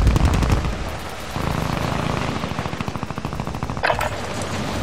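Rapid bursts of automatic gunfire in Call of Duty: Warzone 2.0 rattle in steady rhythm, with a booming blast near the start and another sharp explosion toward the end, loud and close.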